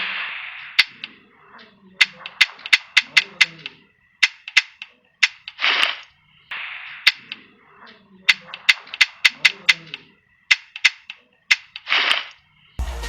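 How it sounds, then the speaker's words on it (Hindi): M416 assault rifle in a video game firing bursts of sharp, snappy gunshots in rapid clusters, ending with a brief empty-magazine mechanical click as the ammo runs out; loud and close, no talk. "यहाँ पर गोलियां खत्म हो गई तभी उसका साउंड इफेक्ट आप सुन सकते हैं।"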